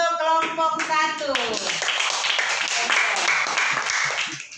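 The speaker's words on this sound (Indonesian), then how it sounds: "Ya, tepuk tangan untuk kelompok 1." A classroom claps for group 1: a voice speaks at first, then a loud, busy patter of many hands fills the rest, close and continuous.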